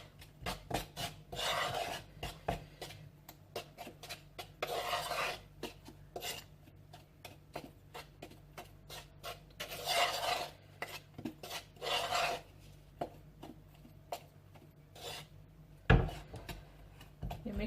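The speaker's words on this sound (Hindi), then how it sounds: "सब चीज़ों को मिक्स कर लेंगे।" A spoon scrapes and stirs chocolate mug cake batter in a mug, making rapid, close rasping strokes in repeated bursts with short pauses between them.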